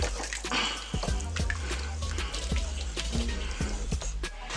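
Chicken tortilla soup being stirred in a pressure cooker gives wet sloshing and clinking of a utensil against the pot, a steady close series of liquid stirs.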